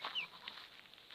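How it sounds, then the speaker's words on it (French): A young hen about two and a half months old gives a brief, close cluck or two, with faint farmyard background and no talk. "Du coup, c'est une poule."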